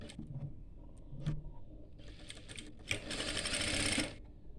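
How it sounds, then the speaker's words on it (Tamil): Sewing machine stitching a petticoat in a tailoring lesson: a few faint taps and handling sounds, then a quick, loud burst of rapid stitching that stops abruptly, close up. "நீங்கள் உள் பக்கமாக இப்படி திருப்பி வச்சுட்டு தையல் போடணும்."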